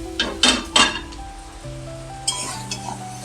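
Hilsa fish heads hit hot oil in a pan with spiced kochur loti (taro stolons), sizzling steadily while a spoon clinks sharply against the pan several times in quick succession.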